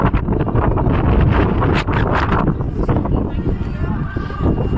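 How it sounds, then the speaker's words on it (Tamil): Strong wind blows outdoors at the McArthur Glen outlet in Vancouver, gusting hard and buffeting the microphone in loud, rough bursts while a person talks over it. "காற்று பயங்கரமாக அடிக்குது"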